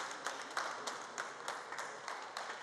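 Applause in the presidential palace greets a prime minister's entrance: steady, fairly faint clapping from a group, with scattered sharper claps and no talk.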